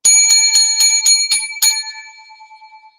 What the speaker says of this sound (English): 7 lucky bells to keep the demons away